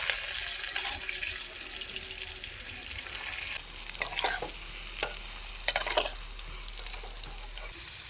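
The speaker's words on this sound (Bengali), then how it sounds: "কোয়াশগুলোকে ভেজে নিচ্ছি" Pieces of hill squash fry in a pan with salt and turmeric over low-to-medium gas, giving a steady sizzle with occasional stirring clatters and scrapes, close by and without talk.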